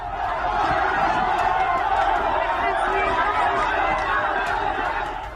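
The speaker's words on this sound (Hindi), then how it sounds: "ये देखिए कैसे भीड़ जो है वो उत्पात मचा रही है।" A large mob riots during an attack on Christian homes in Egypt, a dense, continuous roar of many shouting voices, loud and steady throughout with scattered bangs and cries.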